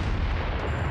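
Naval gunfire in World of Warships, a short, dense, rumbling blast of heavy shelling that fills the whole moment, loud and close.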